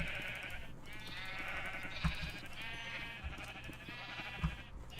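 Sheep in the Minecraft video game bleat repeatedly in wavering, overlapping calls, steady and fairly quiet, with a few soft thumps and no talking.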